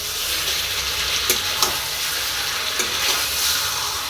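Chicken pieces sizzle loudly in a hot pan while being stirred, a steady close frying hiss broken by a few scraping strokes of the spatula.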